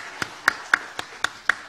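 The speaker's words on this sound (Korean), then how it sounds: "우리 다시 한번 우리 아이들 위해서 격려의 박수 힘차게 부탁드립니다" A few sharp claps spaced about a quarter second apart, steady and fairly close, offered as encouragement for young children after a performance at a church service.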